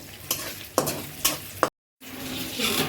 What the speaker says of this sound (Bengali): এই যে আমার রসুনটা ফুটফুট ফুটফুটে ফুটতেছে